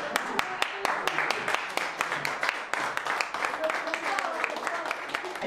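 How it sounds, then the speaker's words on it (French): A crowd applauds at a school event with ski and chess activities, a steady patter of many hands clapping with sharp individual claps standing out, under a noisy room. "On l'applaudit, on l'applaudit."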